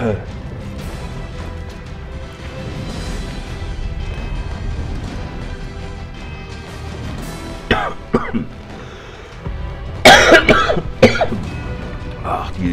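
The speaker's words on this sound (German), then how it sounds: "Ach, dieser blöde Husten." Coughs and throat clearing from a character in the war game Valiant Hearts, heard as a few sharp, loud bursts late in the stretch over soft background music.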